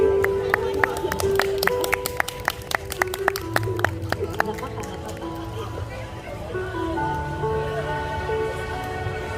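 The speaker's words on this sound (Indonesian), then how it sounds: "Kasih tepuk tangan dong." Audience of students clapping at a school anti-bullying storytelling event, a scattered burst of sharp claps over busy crowd murmur and talk, thinning out after a few seconds.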